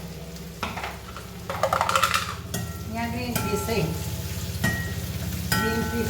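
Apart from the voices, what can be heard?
shallots and curry leaves frying in coconut oil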